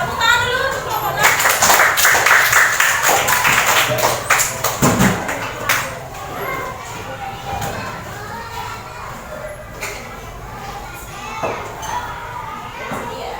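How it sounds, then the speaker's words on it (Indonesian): Classroom applause for a student group, with children clapping and chattering loudly together for several seconds before the noise settles into quieter murmuring and scattered taps. "Tepuk tangan dulu untuk kelompok 6."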